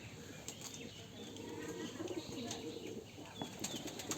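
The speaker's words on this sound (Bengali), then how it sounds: "ওই যে গাছের উপর উপরে সব কবুতর" Soft fluttering of Giribaj pigeon wings and faint cooing at a pigeon farm, outdoors, quiet and somewhat distant, with the birds up in a tree, no speech.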